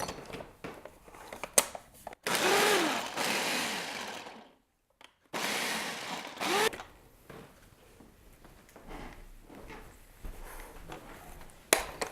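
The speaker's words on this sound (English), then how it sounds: "we're gonna put them into a blender or a food processor" Sliced strawberries are blended in a kitchen blender in two loud whirring bursts of a few seconds each, separated by a pause, with small clicks and handling noises around them.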